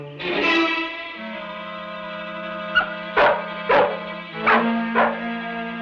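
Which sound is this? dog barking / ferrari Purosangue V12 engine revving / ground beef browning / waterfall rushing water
dog barking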